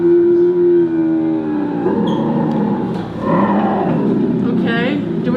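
A bobcat call plays from an exhibit sound button at Ripley's Believe It Or Not in Gatlinburg, a loud, drawn-out growling roar that stays steady for several seconds, then rises into a harsher, wavering cry near the end.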